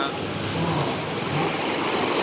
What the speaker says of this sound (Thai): เมื่อตะกี้เป็นคลื่นลูกใหญ่มาก